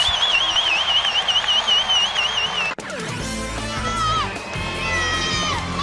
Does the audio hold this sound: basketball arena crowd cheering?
yes